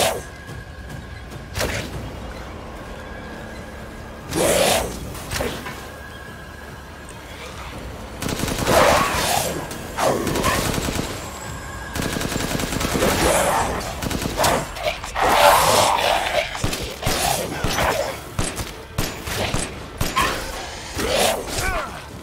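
Gunfire in the Resident Evil Village video game: repeated loud bursts and rapid volleys of shots spread across the whole stretch, with short lulls between them.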